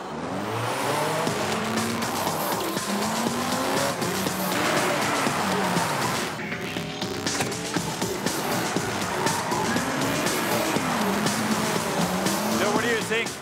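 An Opel Astra, the most powerful version built, is driven hard with repeated rising and falling tire squeals over a loud engine and road roar, loud and close throughout.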